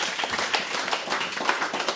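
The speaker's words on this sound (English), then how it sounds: "I want us to clap to this." An audience claps together at a talk, a brief, fairly quiet burst of many hands in a lively, uneven patter.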